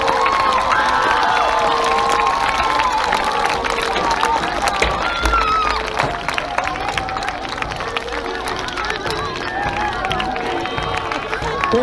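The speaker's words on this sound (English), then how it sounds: "please join me in giving them a tremendous round of applause" Audience at a school senior day applauding the seniors, a dense crowd wash of clapping mixed with cheers, shouts and children's voices, steady and loud throughout.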